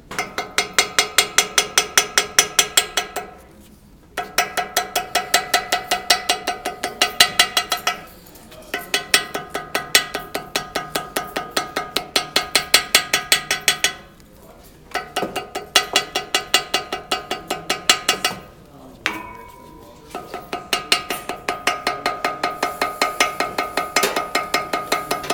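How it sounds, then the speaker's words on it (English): Cardboard is tapped through to cut out a gasket. Quick, regular taps come in long runs at a steady beat, with a few brief pauses between runs, close and distinct. "First, I'm going to tap on the outside. Now, my goal here is actually to cut all the way through the cardboard."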